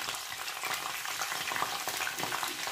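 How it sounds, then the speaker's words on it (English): Green chilies and curry leaves crackle in hot oil for a lamb kidney curry, a bright dense sizzle with rapid spitting pops, steady and close throughout. "I'll let my oil get hot. So guys, now I'll add my curry leaf first."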